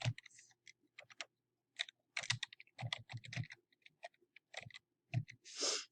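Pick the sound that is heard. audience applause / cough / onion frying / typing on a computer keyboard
typing on a computer keyboard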